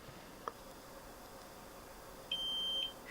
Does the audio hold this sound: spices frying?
no